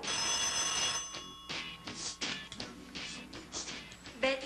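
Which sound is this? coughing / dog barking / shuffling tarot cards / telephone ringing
telephone ringing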